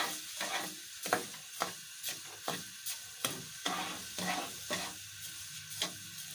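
A kilogram of sugar is stirred in a heating pot for zarda, producing repeated rhythmic scraping strokes of a spoon against the pot over a faint sizzle, close and fairly quiet, with no voices.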